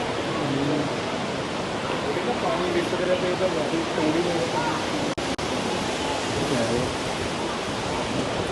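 Water from a stream or waterfall in a rock tunnel rushes as a steady, loud broadband roar, with people talking faintly under it.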